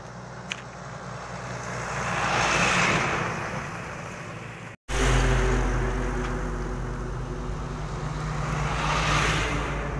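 A vehicle on a cool early-morning rural road in Odisha approaches, swells to a broad whoosh and recedes, followed by another steady passing rumble after a brief cut.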